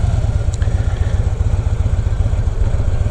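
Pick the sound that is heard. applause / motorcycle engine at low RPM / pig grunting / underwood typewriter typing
motorcycle engine at low RPM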